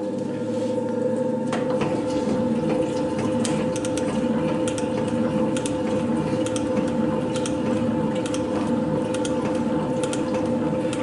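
A metal shaper resurfaces a small cylinder head with a 0.5 mm cut, a steady mechanical hum with repeated clacking strokes of the ram and tool in an even rhythm.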